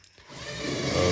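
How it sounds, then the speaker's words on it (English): A power drill bores into scrap wood, cutting while it moves back and forth. It starts out faint, then rises into a steady, broad grinding whir that grows louder to the end. "I'm moving the drill back and forth"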